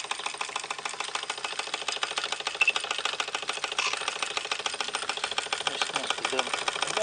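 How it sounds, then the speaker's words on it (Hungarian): A machine engine ticking over at idle, a steady fast mechanical clatter running continuously and evenly at moderate level throughout, with no voices over it. "Alapjáraton ketyeg a gép, Gyula."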